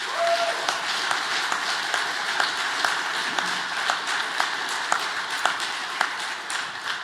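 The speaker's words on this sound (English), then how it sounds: "So if you all could give him a round of applause." Sustained round of applause from an audience at a trucking company awards ceremony, honoring an employee; steady dense clapping throughout, fairly even in level with scattered sharper claps standing out.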